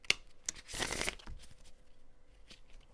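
Tarot cards being shuffled by hand, a few quick riffling bursts with a louder flurry in the middle, close and alone with no talk.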